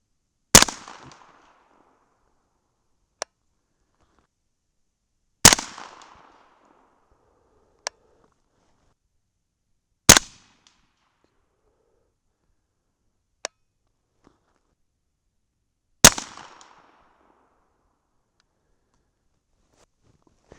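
A 300 Blackout rifle fires 225gr Hornady BTHP subsonic rounds: four sharp, loud shots about five seconds apart, each with a short decay, plus fainter single ticks between them.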